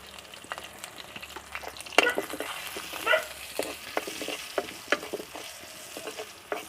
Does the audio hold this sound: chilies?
yes